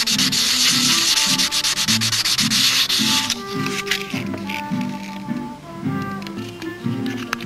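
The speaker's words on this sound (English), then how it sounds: "just a little hit with 600 sandpaper" A coated model cockpit part is rubbed with 600-grit sandpaper in short repeated back-and-forth strokes, a close, rhythmic scratchy rasp, brighter and harsher in the first few seconds.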